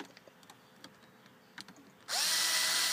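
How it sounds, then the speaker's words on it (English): Power drill driving screws during a BMW E60 aux install, a loud close whine starting abruptly after a couple of seconds of faint clicks and handling noise. "you're going to put your screws in the top"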